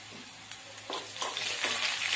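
Cumin, green chillies and asafoetida crackle and sizzle in hot oil for a dhokla tempering, a loud, close hiss that swells with sharp pops and spatters, with no voices.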